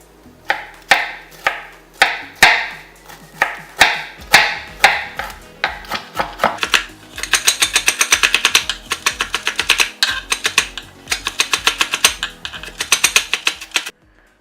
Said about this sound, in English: I am going to cut them into very small pieces. Chop them very finely.